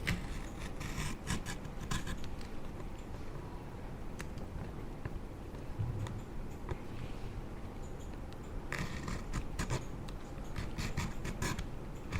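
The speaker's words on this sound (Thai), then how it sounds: "ที่เราขูดออกก็คือเศษกาวเก่าเนี่ยนะคะ บางทีมันไม่โผล่เราก็ขูดให้มันโผล่ขึ้นมาหน่อยจะได้ทำความสะอาดออกได้" Old glue residue being scraped off the frame of a vivo Y3s phone during a screen replacement, heard as a steady close-up rasping and rubbing scrape that continues without pause, with no voices.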